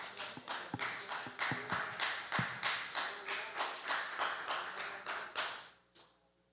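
Church congregation clapping in steady rhythmic unison during a Sunday worship service, the claps loud and sustained for several seconds before fading away at the end.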